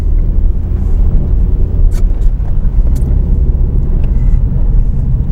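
A car pushes along a snowy road in a higher gear, its engine and tyres giving a loud, steady low rumble from inside the cabin, with faint occasional knocks and no speech.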